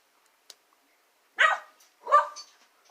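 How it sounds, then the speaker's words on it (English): Two separate bursts of dog barking from dogs nearby, each a short cluster of barks with silence between, preceded by a faint click. "That's the dogs, don't worry."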